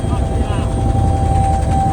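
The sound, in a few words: helicopter flying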